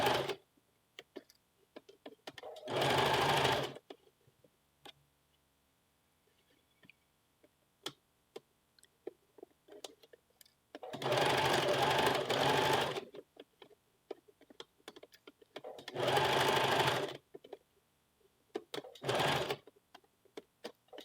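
A sewing machine runs a 2.5 stitch length around a puff sleeve cuff on a western blouse in four separate bursts of loud, rapid stitching, with quiet pauses between them and small clicks of handling fabric.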